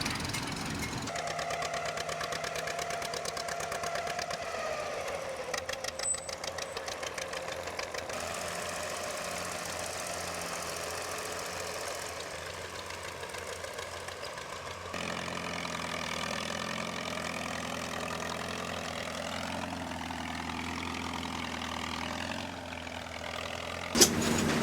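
Two Farmall M tractors coupled together at a vintage farm machinery show, engines running with a steady mechanical knocking and idling drone throughout, close and continuous with no talk.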